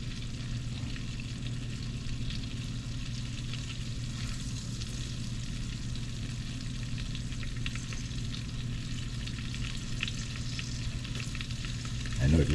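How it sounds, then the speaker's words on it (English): Sprigs of thyme frying in hot oil in a pot for Guyanese metemgee, a steady, close, loud sizzle and crackle continuing throughout with no talking. "Now that my oil is heated, I get my sprigs of thyme in there"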